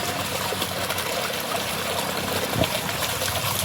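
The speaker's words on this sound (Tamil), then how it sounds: "தண்ணி வந்துக்கிட்டு இருக்கு" Steady broadband rush of water flowing from a pump driven by a 3000W BLDC motor at low pressure, a continuous close trickle and stream with no talk.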